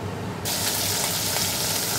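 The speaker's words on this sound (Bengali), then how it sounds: "এখন এই মাছটা ভাজা করলে হয়ে যাবে" Fish frying in a pan, a loud, steady sizzle that swells suddenly after a quieter start and then holds as a dense, continuous crackle close by.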